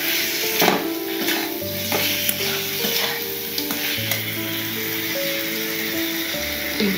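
Potatoes frying and being stirred in oil with spices for a cauliflower, potato and magur fish curry, a steady close sizzle with repeated scraping stir strokes and brief clanks throughout, no talk.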